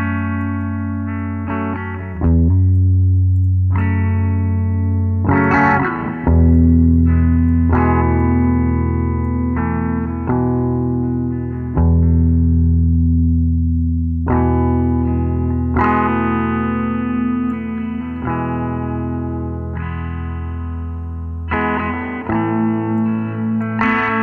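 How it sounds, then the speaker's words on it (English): Heavily processed sound run through compression, saturation, modulation and reverb inside Reaper: thick, distorted sustained tones in loud repeated phrases with chorus-like wobble and a reverberant tail, alone without talk. "So this is running compression, saturation, modulation, and the reverb."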